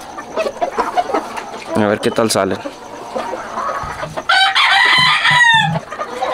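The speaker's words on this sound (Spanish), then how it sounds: "El gallito, ese pollito es una amenaza." Sweater and Chucky cross gamefowl cluck and crow nearby, with a rooster's loud drawn-out crow standing out among scattered clucks, while someone talks over them.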